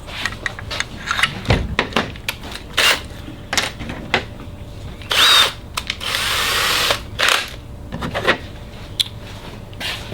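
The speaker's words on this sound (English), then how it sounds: "To drill through this cam," A power drill whirs in several short bursts with pauses between, close by, drilling holes through a teak console door cam, alongside scattered knocks and handling noises.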